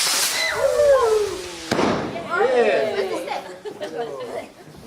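Firework rocket on Bonfire Night, a sharp bang and crackling burst amid whistling screeches in a back garden, with people chattering and laughing throughout.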